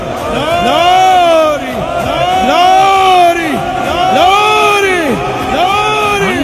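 A worship congregation at a Hosanna Ministries gathering shouts praise loudly in unison, with repeated rising-and-falling voiced calls in a steady rhythmic pattern that fills the room.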